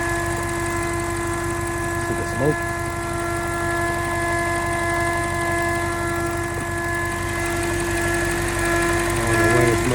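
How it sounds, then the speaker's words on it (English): A damaged car engine that has blown up runs at a steady, loud idle with a continuous buzzing drone and vibration, while a voice briefly speaks over it. "this is what the engine doing"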